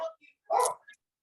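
A dog gives a single short bark, with fainter yips around it, heard in the background of an online call.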